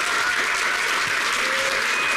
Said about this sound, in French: On peut l'applaudir tout de suite